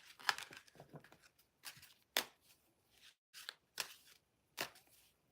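Tarot cards being shuffled during a live reading, a series of quick papery riffles and snaps in irregular bursts with short pauses between, close and crisp, no voices over them.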